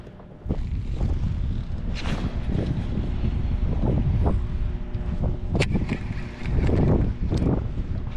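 Wind blowing across open water during fall kayak fishing on a lake, a steady close rush and buffeting on the microphone with a few faint knocks and splashes mixed in, no talking.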